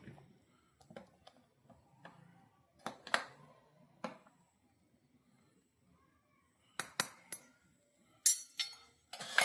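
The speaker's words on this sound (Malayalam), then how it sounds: "ഒന്ന് ഇളക്കി കൊടുക്കുന്നുണ്ടേ." A spoon stirs mutton majboos in a cooking pot, giving scattered metallic clinks and scrapes in short bursts with quiet gaps between them.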